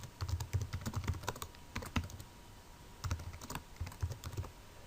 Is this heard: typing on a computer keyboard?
yes